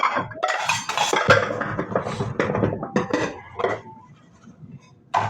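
Plates, spoons and other dishes clatter and clink during washing, a busy run of close ceramic and metal knocks with short pauses and no talking.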